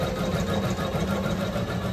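A sewing machine stitches a suit, giving a steady, continuous mechanical whir with a fine rapid chatter, close and moderately loud throughout with no talking.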